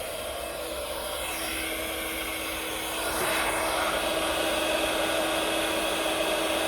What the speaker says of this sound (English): We'll grab the heat gun. Sorry, this is going to be a little bit loud.